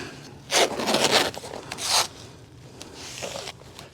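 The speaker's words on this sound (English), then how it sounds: "We're going to tape this up." Packing tape rips off the roll in two long, raspy pulls close by, followed by fainter rubbing and pressing as it seals the cover of a beehive during a winter hive check.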